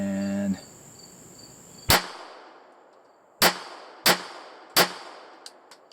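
A Taurus PT-22 pistol fires CCI Mini Mag ammunition outdoors: four loud, sharp reports spaced about a second apart, then a few faint distant pops, with crickets chirping steadily in the background.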